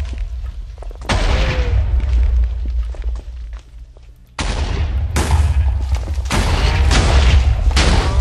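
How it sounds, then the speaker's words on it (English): An explosion orb detonates in the Minecraft 1.6.4 Elemental Orbs mod, giving two loud booming blasts, each with a sharp onset and a rumbling, crackling tail, the second longer and heavier. "We have the explosion orb. Boom! Nearby, explodes nearby entities."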